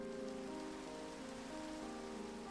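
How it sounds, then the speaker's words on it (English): Steady rain from the Minecraft weather effect hisses as a dense, even wash of drops with no breaks, moderately quiet and with no voices. "Apparently when you change it to rain"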